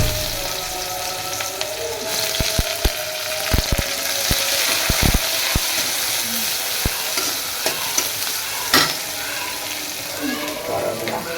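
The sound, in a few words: frying bitter gourd in a pan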